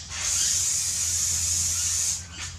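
Silicone spray hissing from an aerosol can in one steady, close burst lasting about two seconds over a low background hum, then stopping abruptly, during paint preparation for a pour.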